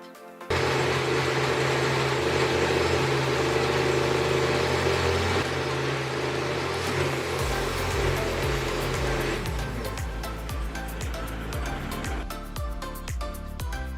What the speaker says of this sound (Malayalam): ആദ്യമായി ഒരു ബ്ലെൻഡർ എടുത്ത് അതിനകത്ത് കട്ട് ചെയ്ത പപ്പായ ഇട്ട് നന്നായി പേസ്റ്റ്